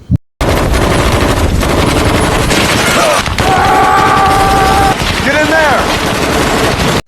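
Rapid bursts of automatic gunfire fill a film scene, loud and continuous, with frantic voices and shouting mixed in partway through.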